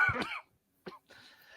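A woman coughs close by: a rough, drawn-out hacking burst, then a short sharp cough, then a brief raspy clearing of the throat.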